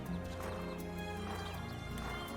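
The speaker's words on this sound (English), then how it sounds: "It's a horse!" A horse whinnies and hooves clop in a Wild ARMS: ACF game soundscape, with steady tonal background music underneath.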